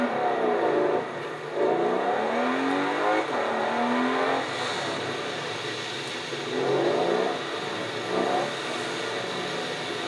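Maserati Levante S engine in Forza Horizon 4 roars steadily through repeated revving climbs and gear shifts, loud and close with no voices.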